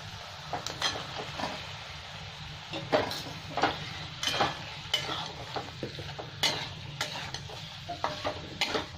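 Potatoes and peas fry in a pan with spices, a low steady sizzle punctuated by repeated close scrapes and clinks of a spatula stirring at an uneven rhythm.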